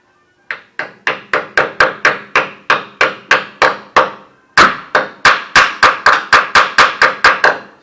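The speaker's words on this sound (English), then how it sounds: "and just use a hammer." Loud metallic hammer strikes setting a brake hose clip on a 1968 Oldsmobile Cutlass disc brake conversion, in quick, steady succession, around two dozen blows with one short pause midway, close and ringing.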